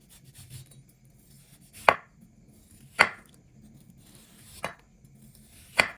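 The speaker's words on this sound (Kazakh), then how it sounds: "Үлкен емес бөліктерге бөліп, кез келген блендерге саламыз." A knife chops a peeled orange into small pieces on a board, four sharp, close thuds spaced about a second apart over a quiet background.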